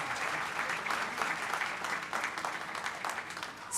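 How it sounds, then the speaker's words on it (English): An audience at a school board of education meeting claps steadily, a continuous, even round of applause heard moderately quiet, as if from across a room. "Let's give her another round of applause"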